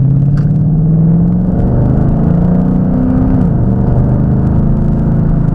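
A 2011 Ford Mustang GT pulls away at half throttle on a straight road, a low steady rumble with a slight rise in pitch, heard close from inside with no talking.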